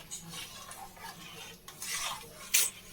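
Chili chicken frying and being stirred in a pan, with soft scraping and clinking of a utensil against the metal, a few sharper clacks near the end, moderately close over a faint background sizzle.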